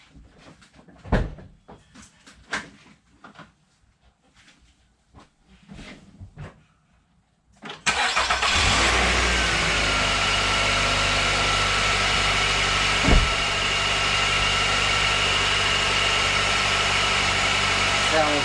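Nissan Altima with the 2.5L QR25DE four-cylinder after a belt replacement: a few clunks and shuffles from the car, then the engine fires near eight seconds and settles into a steady, close idle with one brief blip.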